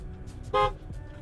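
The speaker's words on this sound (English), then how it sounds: "How's the horn sound?" A single short honk of a Tesla Cybertruck electric pickup's horn, loud and close, over a low idling hum.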